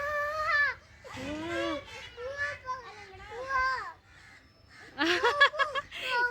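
Crows caw in several loud nearby bursts, mixed with excited children's voices talking and squealing over the calls.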